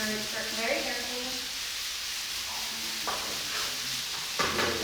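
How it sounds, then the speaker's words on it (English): Vegetables for Korean jeyuk sizzle and hiss as they are stir-fried in a hot pan, with a few scraping stirs and clinks near the end. "We will keep stir frying until all the vegetables are all done."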